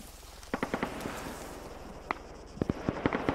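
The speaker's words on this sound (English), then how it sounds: "Damn, I can hear those explosions." Scattered sharp pops and bangs crackle irregularly, faint and distant, like far-off explosions and gunfire in Arma 3 multiplayer.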